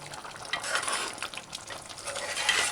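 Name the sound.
stirring curried goat meat and potato gravy in a pot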